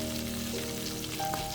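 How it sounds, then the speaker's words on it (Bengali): Hilsa fish frying in mustard oil in a pan, a steady close crackle and sizzle that continues without pause and with no talking. "তো ইলিশ মাছটা প্রথমে ভাজা হচ্ছে"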